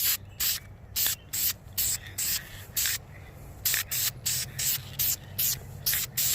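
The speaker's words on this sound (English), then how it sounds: "Now, I'm doing the dusting now because I only got a little bit of this paint left." VHT engine paint sprayed from an aerosol can onto the front brake calipers of a 2004 GSXR 1000, in a steady rhythm of short, close hissing bursts with brief gaps.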